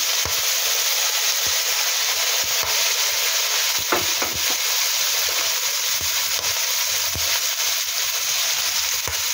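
Pork afritada frying in a pan as fish sauce goes in, a steady close hiss of sizzling oil with occasional soft clinks and stirring scrapes, no talking.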